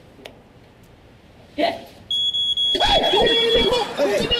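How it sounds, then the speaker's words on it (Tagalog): A home smoke alarm under test: after a few knocks and rustles, a shrill, steady electronic beep starts and sounds continuously at close range while people talk over it. "Kasi yung alarm, tinetest lang namin kasi minsan hindi po gumagana."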